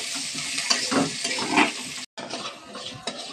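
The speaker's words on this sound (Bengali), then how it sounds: "এবার পেঁয়াজ দিয়ে দিলাম।" Onions go into a pan of hot oil for dal, sizzling and crackling while a utensil scrapes and stirs in uneven strokes, with a brief drop to silence near the middle.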